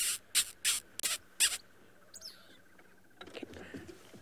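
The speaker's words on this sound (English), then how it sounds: "Then I can hear mongoose." Mongoose calls near a safari camp: a run of five sharp, bright chirps in quick succession, followed by fainter squeaks and soft rustling further off.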